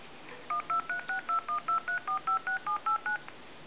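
A telephone's redial button sends a quick run of about fourteen evenly spaced touch-tone beeps, clear and close over a quiet background, with no talking.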